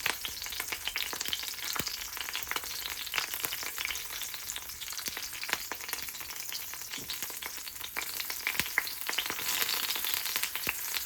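Marinated raw banana slices shallow-fry in oil in a pan over slow to medium heat, giving a continuous close sizzle dotted with small pops and crackles, with no voices.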